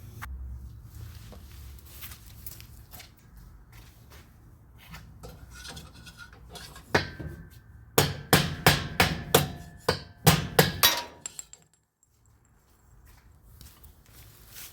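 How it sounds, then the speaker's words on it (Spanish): A hammer strikes a screwdriver to drive out a worn bushing from a Whirlpool washing machine, a rapid run of loud metallic blows close by after quieter scraping and handling, then silence. "Con el martillo le pegamos aquí"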